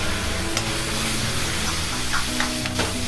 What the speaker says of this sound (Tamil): சிக்கன் சேர்த்து நல்லா கலந்து விட்டுடலாம்.